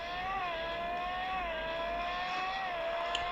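A modified car drives along with a steady engine drone and a faint tonal whine that rises and dips slightly. The sound stays even and moderately loud throughout, with no talking.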